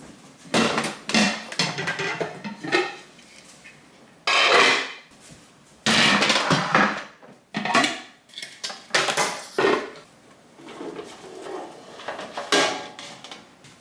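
Baked ziti being loaded into crock pots of several sizes, with irregular bursts of clattering pots, dishes and utensils, scraping and knocking close by, separated by short quiet gaps.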